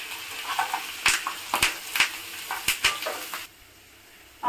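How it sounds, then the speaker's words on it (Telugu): Sliced onions with curry leaves and green chillies frying in hot oil in a pan, a soft sizzle under a series of spatula scrapes and clinks against the pan, then a sudden drop to quiet. "ఆనియన్స్ బాగా వేగాలండి"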